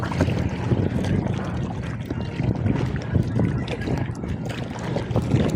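A boat moving across water during a supertyphoon, with splashing and sloshing over a rumbling wind-buffeted background, steady and close.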